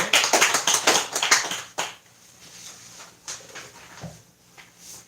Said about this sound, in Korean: 우리 서로를 위해서 축복의 박수, 환영의 박수 한번 나눕니다.